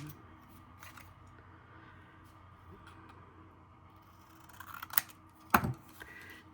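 Scissors snipping paper at a craft table, a few quiet cuts early on, then two sharper, louder snips near the end against a soft background.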